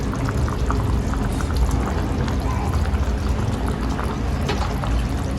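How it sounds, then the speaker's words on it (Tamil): Hot oil poured over a mango fish gravy in a home kitchen, a steady soft sizzling and trickling hiss that holds evenly throughout at close range. "இது இப்போ எண்ணெய் ஊற்றி"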